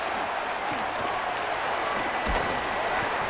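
Stadium crowd in a College Football 27 video game roaring steadily through a Kennesaw State Owls punt return, a dense, continuous cheer with no pauses.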